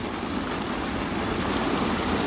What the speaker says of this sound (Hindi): तो ये आना शुरू हो गया इसमें पानी,